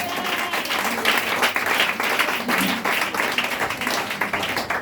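A church congregation applauding during a Sunday morning service, dense, loud clapping from many hands that continues steadily throughout, with faint voices mixed in.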